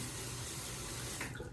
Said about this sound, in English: And I'll go ahead and wet the razor.